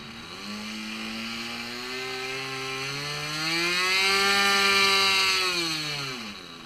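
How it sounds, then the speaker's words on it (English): A small K82 Kadet LT 40 model airplane engine revs up from a steady buzz to a louder, higher whine, then eases back down, with no voices. "Doing an engine run up."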